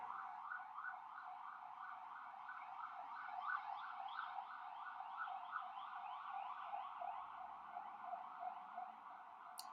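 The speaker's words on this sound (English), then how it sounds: "Pardon the sirens." An emergency siren wails in a steady, repeating rise-and-fall pattern, fairly loud and continuous, with no voices over it.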